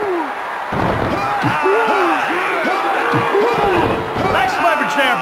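Capacity arena crowd in the WWF Attitude wrestling game roars steadily throughout, with thuds and slams from the ring and a commentator talking over the noise.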